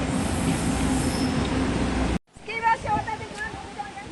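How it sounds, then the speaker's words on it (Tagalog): A train pulls into a station in Taiwan with a loud rumbling roll and faint wheel squeal, then cuts to quieter platform ambience with voices talking. "Hey, Hana Sound, the train's coming"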